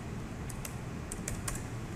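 A few quick keystrokes tapped on a computer keyboard while a search is typed, light clicks in small bursts close by against a soft room hum.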